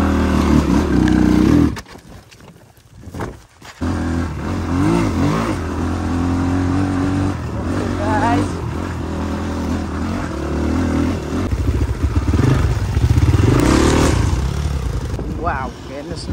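A motorcycle rides a dirt adventure route from Pokhara to Chitwan, its engine droning and revving with rising and falling pitch, wind buffeting, a brief drop in level early on, and a rider speaking at times.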